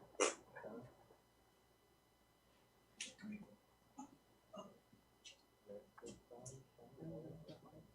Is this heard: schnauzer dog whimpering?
yes